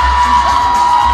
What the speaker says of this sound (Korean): 박시우의 이름이 호명되자 팬들의 환호가 터져나왔습니다